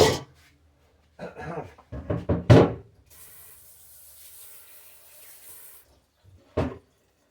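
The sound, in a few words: water running while rinsing jalapeno pepper under faucet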